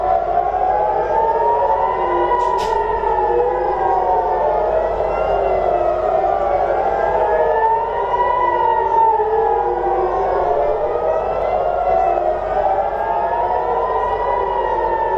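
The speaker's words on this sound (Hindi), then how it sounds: "ये वो जगह है जहां पर लगातार मिसाइल सायरन बजे हैं। सायरन की आवाज आप सुनिए।" A loud wailing missile warning siren in Israel during the Israel–Iran war rises and falls in slow continuous cycles, sustained throughout with no voices.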